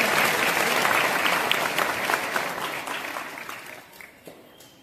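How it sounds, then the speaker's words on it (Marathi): Applause from an audience welcoming Baba at a grand felicitation ceremony in Jalna: dense, sustained clapping from a large crowd that starts full and slowly thins and fades toward the end. "त्यांचा टाळ्या वाजून सगळ्यांनी स्वागत करा."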